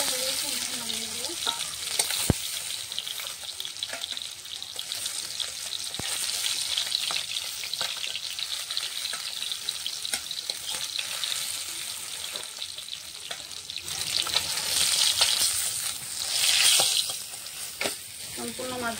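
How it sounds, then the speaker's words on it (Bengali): Rohu fish frying in hot oil, a steady crackling sizzle running the whole time with occasional stirring clinks and a louder burst of spattering near the end. "মাছটা আমি কড়া করে ভাজবো।"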